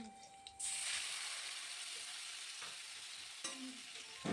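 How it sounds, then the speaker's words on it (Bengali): Mustard paste stirred into flat beans frying in oil with black cumin and split green chillies: a faint tick, then a sudden broad hissing sizzle that settles into a steady fry, with a couple of utensil scrapes. "সর্ষে বাটা দিয়ে ভালোভাবে মিশিয়ে নিচ্ছি"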